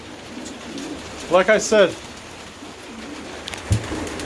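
Pigeons coo in a short cluster of rounded, warbling calls close by, with a fainter coo following a couple of seconds later, over light outdoor background noise; a person speaks briefly.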